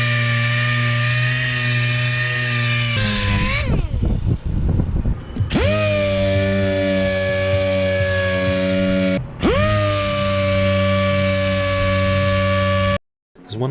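Power sander working a fiberglass boat hull bottom during restoration, a loud steady whine with harmonic tones that dips and restarts twice, running nearly continuously before cutting off near the end.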